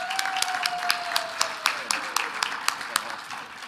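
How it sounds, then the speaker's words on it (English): A crowd of Realtors at an awards session claps for the local boards, heard as a string of distinct sharp claps in a loose rhythm. A sustained tone runs beneath the opening second. "Let's give a great applause for all the boards who did so much this year"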